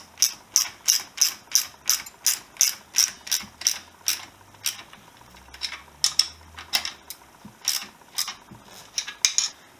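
A ratchet tightening a bolt on the headlamp of a Honda XL250S under restoration, a long run of sharp evenly spaced clicks close up, then a few slower, irregular clicks after a brief pause.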